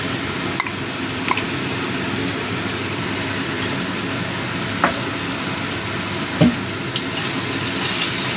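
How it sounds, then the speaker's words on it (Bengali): Turmeric and red chilli powder are stirred into softened tomatoes in a sizzling pan while cooking a fish chorchori. A steady frying hiss runs throughout, broken by occasional scrapes and taps of the spoon against the pan. "ভালো করে মিশিয়ে দিচ্ছি"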